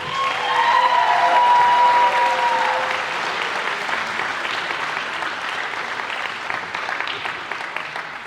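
An audience at a high school sports awards ceremony applauds a three-sport athlete named Jackson, a dense wash of clapping that peaks early, carries a few cheers and whistles, then holds steady at a slightly lower level.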